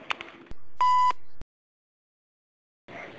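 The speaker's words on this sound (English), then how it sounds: "so just leave a message after the tone." A telephone answering machine gives its message beep, a single steady electronic tone lasting about a second after a brief bit of noise, followed by silence and then faint sound.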